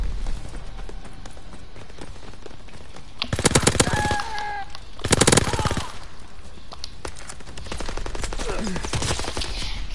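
Gunfire in a Call of Duty battle: rapid automatic bursts rattle loudly in two clusters near the middle, with lighter scattered shots and a busy battlefield din around them.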